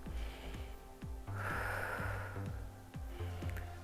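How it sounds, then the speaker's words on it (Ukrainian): A deep inhale during a guided breathing exercise, one long drawn breath rising to a full rush of air in the middle of the clip, close and loud over a steady rhythmic musical beat. "І глибокий вдих."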